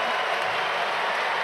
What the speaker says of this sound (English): that is a raucous response from the crowd as well